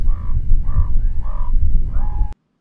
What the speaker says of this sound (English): ravens make a rumbly croak.